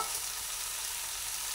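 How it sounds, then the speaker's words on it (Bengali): Jackfruit and fried potato stir-fried in a pan, a loud, continuous close sizzle with a faint stirring rasp running steadily underneath, no voices. "সব দিয়ে পরে সুন্দরভাবে এঁচোড়টা দেখুন বেশ কষিয়ে কষিয়ে রান্না করে নিচ্ছি"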